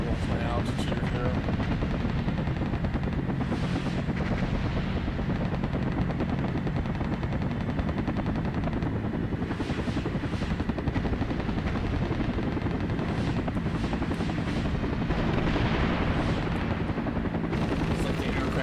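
Aircraft in the video game Air Missions flying amid dense, continuous combat noise, with steady engine drone and bursts resembling gunfire and rotor thump running loud throughout.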